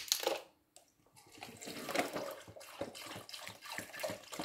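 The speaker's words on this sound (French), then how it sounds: "Nous allons ajouter de l'eau minérale." Mineral water is poured into a blender holding beetroot, giving a close, steady splashing trickle that runs for several seconds after a short gap near the start.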